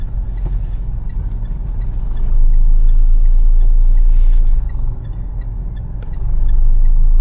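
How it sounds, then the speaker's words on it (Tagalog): Steady road traffic drones loudly around the listener, with passing vehicles swelling and fading as they go by, engine rumble dominating throughout. "Traffic na doon."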